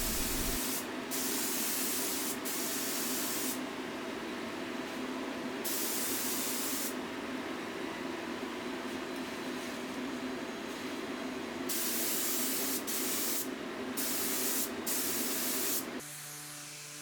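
A spray gun hisses steadily for about sixteen seconds with brief pauses, close up, spraying lacquer finish onto a mid-century walnut table, then cuts off near the end.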